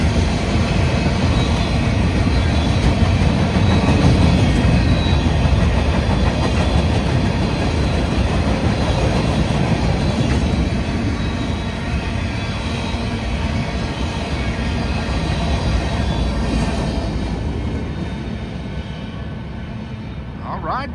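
A freight train on the old B&O line rolls steadily past close by, a loud continuous rumble and wheel clatter with cars including 86-foot units, while people talk over it.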